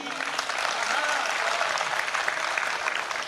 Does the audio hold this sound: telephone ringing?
no